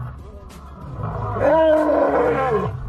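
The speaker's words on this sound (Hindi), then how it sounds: "एक असली शेर की आवाज रियल लाइफ में कुछ ऐसी होती है" Real lion roaring, a deep rough growling roar that swells to a loud peak midway and then trails off over a few seconds, with low rumbling underneath.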